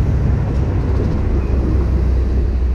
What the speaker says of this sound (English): Again, excuse the road noise.